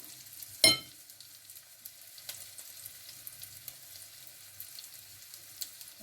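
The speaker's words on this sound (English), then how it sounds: "make sure she's sizzling" Salmon patties fry in a little oil with a low, steady sizzle and faint crackle, preceded by a sharp clatter as something drops into the pan.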